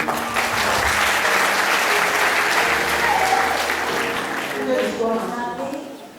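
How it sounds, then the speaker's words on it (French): An audience breaks into sustained, loud applause that holds steady for several seconds before tapering near the end, with a few voices calling out within the clapping. "Vos applaudissements, s'il vous plaît."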